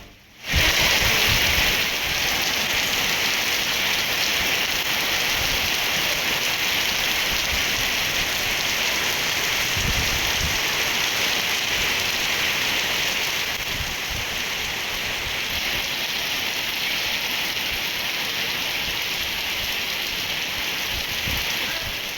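Heavy rain pouring down steadily in Hyderabad, a loud unbroken roar of drops on surfaces that continues without pause.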